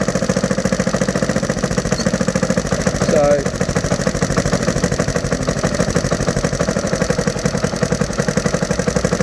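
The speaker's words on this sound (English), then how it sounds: "There is a slight backfire, so the timing could be slightly out" A Honda XR100 four-stroke motorcycle engine chugs steadily at idle with a rapid, even pulsing rhythm, close and loud, with a brief irregular backfire pop partway through.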